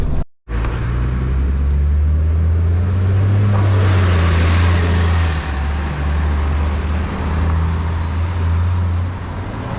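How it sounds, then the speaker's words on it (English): An Optare Tempo single-deck bus run by Lynx pulls away from a stop at Downham Market, its steady engine rumble and road noise loud and close throughout with no talking. "So there goes the Octet Tempo operated by Lynx."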